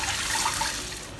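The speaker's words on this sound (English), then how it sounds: "I'm adding in 2 cups of water" Water, two cups of it, pours into a pan for a garlic white pepper crab dish, giving a steady broadband rush and splash close by, with no talking.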